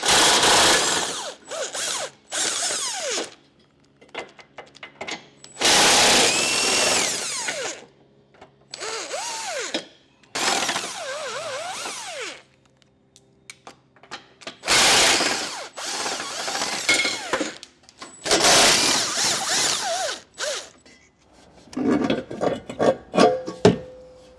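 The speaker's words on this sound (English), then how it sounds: "we're going to need to remove the 8 nuts that are holding on our bumper reinforcement bar" A power tool zips off the eight nuts holding the bumper reinforcement bar on a 2019 BMW, sounding in a series of loud, close bursts of whirring and ratcheting separated by short pauses and handling clatter.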